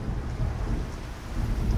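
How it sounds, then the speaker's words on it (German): Heavy rain and thunder used as a documentary effect for catastrophic summer downpours: a dense, continuous roar of rainfall with a low thunder rumble underneath, steady and enveloping throughout. "1342 kommt es zu katastrophalen Regenfällen"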